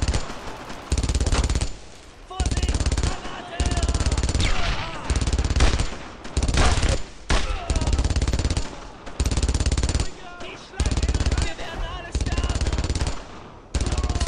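Sustained bursts of automatic machine gun fire in the World War II shooter Brothers in Arms, loud and close, coming in long rapid volleys separated by brief pauses, with voices occasionally shouting underneath.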